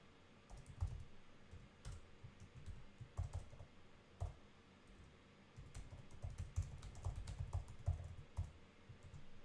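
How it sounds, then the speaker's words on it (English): Typing on a computer keyboard produces quiet, irregular bursts of clicking keystrokes that come in clustered runs with short pauses, close to the microphone, with no talking. "I'm typing right now"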